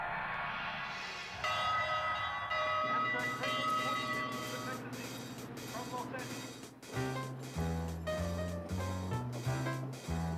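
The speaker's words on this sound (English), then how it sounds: "it's your turn to ring the bell." A railroad train bell rings in a clear repeated rhythm, its sustained metallic tones resonating, while people talk and music plays around it.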